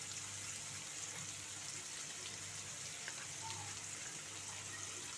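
A faint, steady crackling sizzle of dried prawns frying in a pan, even and continuous throughout with a low background hum and no voices.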